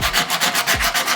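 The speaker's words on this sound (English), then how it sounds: "Once you have it all etched out, maybe you start sanding." Old axe handle being sanded by hand with high-grit sandpaper: steady back-and-forth rasping strokes, close and rhythmic, about eight passes with no talking.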